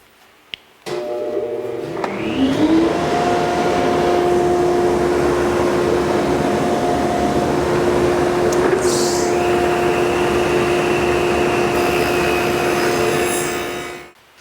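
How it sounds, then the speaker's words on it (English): A table saw fitted with a feather board runs steadily as it cuts grooves in wood pieces held against the fence, a loud sustained whine with a rising spin-up, continuing about thirteen seconds before winding down. "I've got the feather board on to help me keep tight against the fence, and we're just going to go ahead and cut all these grooves."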